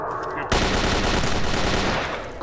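Rapid automatic gas rifle fire in the video game Radiophobia 3 erupts after a brief moment of quieter sound, a dense, loud burst of rattling shots that continues for about two seconds.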